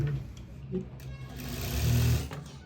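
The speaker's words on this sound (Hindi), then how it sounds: "एक लास्ट फाइनल सिलाई जो हमारी लगनी है वो लगा लेते हैं" A sewing machine runs a final seam on a sharara, its steady mechanical whir holding throughout and swelling briefly louder near the end.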